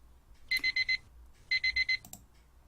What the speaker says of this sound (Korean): 알람 소리에 잠이 깼다.